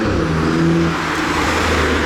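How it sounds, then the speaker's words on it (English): A BMW car drives past on a street in Japan, its close engine drone rising briefly as it revs, loud and steady for the whole moment. "It's just a BMW"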